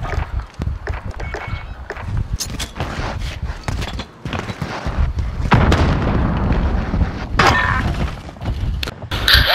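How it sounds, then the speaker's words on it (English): Grenade blasts and shattering impacts in Call of Duty: Modern Warfare multiplayer, loud booming bursts with rapid footsteps and gunfire-like cracks throughout, dense and chaotic. "You threw a grenade."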